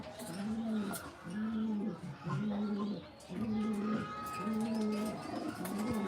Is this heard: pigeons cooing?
yes